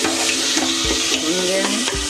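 Masala for matar paneer frying in oil while a spoon scrapes and stirs through it, steady close sizzle with repeated soft knocks of the spoon against the pan.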